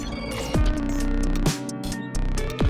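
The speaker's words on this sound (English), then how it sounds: "And so we did this like weird ethereal type breakdown that sounds like this." Dreamy, ethereal guitar breakdown in an indie-pop production, with sustained shimmering chords, a steady bass bed and swooping pitch-bend sweeps near the start, middle and end, played alone without talk.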